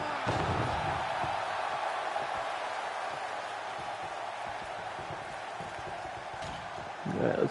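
Steady roar of a wrestling arena crowd in AEW Fight Forever, a broad wash of cheering noise that holds throughout, with a few dull thuds and a swell near the end.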